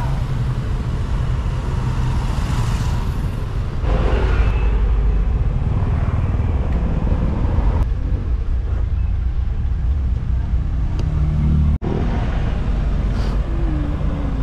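Busy road traffic with cars and motorcycles passing close by, a constant engine rumble with swells as vehicles go past and a brief sharp knock near the end.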